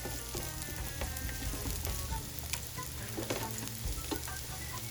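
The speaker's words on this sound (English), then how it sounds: "sauteing" Broccoli and carrots sauté in a hot pan for chicken teriyaki, a steady close sizzle and crackle of frying with occasional stirring, no voices.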